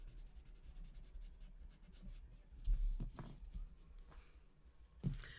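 Pen scratching across paper while adding a drop shadow to a Zentangle drawing, faint close strokes with a few louder scribbles, quiet and intimate.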